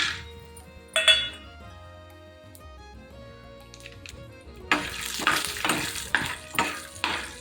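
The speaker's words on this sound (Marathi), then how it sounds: "तर इथं कढई ठेवलेली आहे त्यात शेंगदाणे टाकू" Peanuts roasting in a kadhai, mostly quiet at first with a single scrape near one second, then a run of five or six sharp, close scraping stirs with rattling nuts in the last few seconds.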